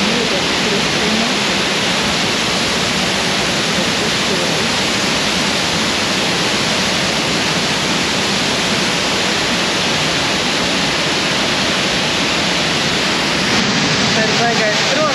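A roaring Estonian waterfall, a loud unbroken broadband rush of falling water heard up close, steady for the whole stretch, with a voice faintly mixed into the roar.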